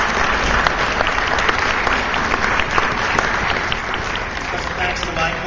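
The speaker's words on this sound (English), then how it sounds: "I think you owe them a round of applause" A crowd applauds steadily at a college soccer awards event, dense clapping holding at an even level throughout with a few sharper claps standing out.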